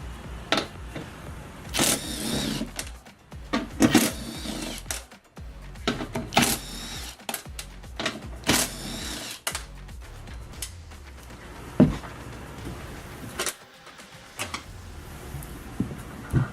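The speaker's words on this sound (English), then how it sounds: "we need to remove these 4 bolts using a 13 millimeter" A 13 mm wrench works the bolts holding the tow hooks on a truck bumper, giving repeated close metallic ratchet clicks and clanks in irregular bursts with short quiet gaps between them.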